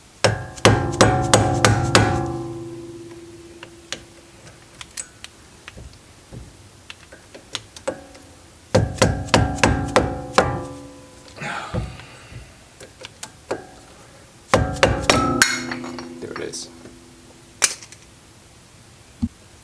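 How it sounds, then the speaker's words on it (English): Loud metallic hammer strikes on a wheel stud of a 2015+ S550 Mustang front hub, in three rapid clusters, each a quick series of ringing whacks, with quieter taps and pauses between. "grab a big hammer and just hit it, give it a good couple whacks"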